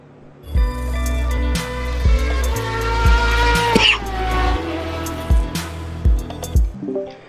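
Race car engine from the sim racing game RaceRoom, an E1 Series FRX22 lapping Silverstone, with a loud droning tone that rises through the gears, several sharp shift drops and brief tyre squeals, no talk over it.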